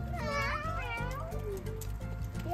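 A person imitates a cat with a drawn-out, whiny meow, voiced close and fairly loud over a low background hum, rising and then falling in one or two sliding cries.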